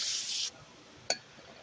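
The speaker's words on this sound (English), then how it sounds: "You just spray some brake ball cleaner" Aerosol brake cleaner sprays onto a rag in a short, loud hissing burst of about half a second, followed by quiet and a single sharp click, close by.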